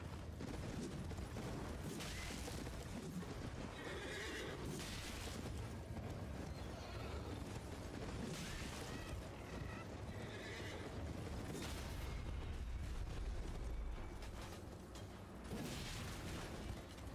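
A horse in the video game Elden Ring whinnies several times over a dense, constant wash of game ambience and rumbling effects, with faint hoof clatter mixed in throughout.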